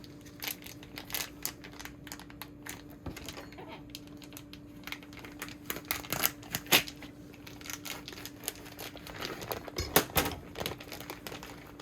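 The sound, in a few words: knife cutting smoked meat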